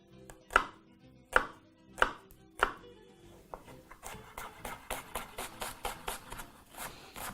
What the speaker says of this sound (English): chopping your onions.